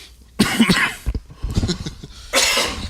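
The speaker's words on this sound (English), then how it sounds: "Stop coughing" A person coughs several times in quick, harsh bursts close to the mic, with a rough throaty rasp between the fits.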